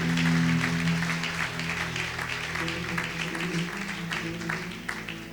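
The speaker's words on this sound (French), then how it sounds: "Acclamons fort pour l'Éternel." A church congregation applauding at a French-language prophetic worship service: sustained, dense clapping that stays strong and slowly eases, with a held tone underneath.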